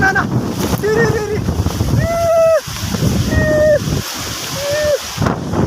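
Strong wind roars against the microphone without letup, while a voice calls out several drawn-out shouts over it.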